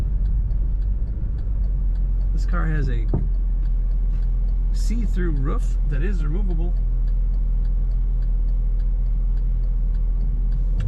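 A bright red 1995 Chevrolet Corvette coupe with an automatic transmission drives along, its steady engine and road drone running continuously from inside the cabin while someone talks over it.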